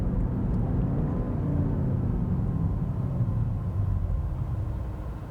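A 2020 BMW X6 M Competition SUV, a 617 hp coupe-styled model, drones steadily under hard acceleration, a deep continuous engine roar heard from inside that fades slightly toward the end, with no voices.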